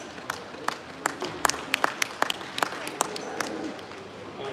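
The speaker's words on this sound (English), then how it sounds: "let's go ahead and give our junior exhibitors a big round of applause." Audience at a Milking Shorthorn cattle show applauding junior exhibitors, a thin, scattered patter of claps from a modest crowd, fairly faint and lasting a few seconds.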